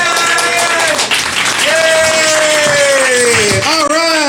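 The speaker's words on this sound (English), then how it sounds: "Let's give a big round of applause to Bill Metzger." A comedy-club crowd at a cafe gives a comedian applause and cheers after his introduction, the clapping loud and continuous while a voice talks over it.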